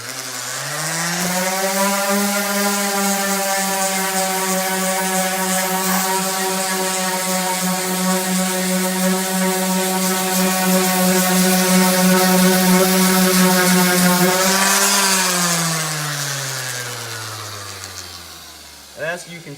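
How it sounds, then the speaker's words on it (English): A power sander takes paint and lacquer off a CNC-cut wooden sign, spinning up to a loud steady whine, running for about thirteen seconds, then winding down to a stop. "So we're just gonna take our sander, we're gonna turn it on, and we're just gonna sand all of it off."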